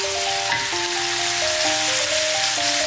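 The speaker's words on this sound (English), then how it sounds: "I'm just frying it up in my large saucepan." Steady sizzling of beef frying over low heat in a large saucepan, a constant hiss under a simple melody of background music.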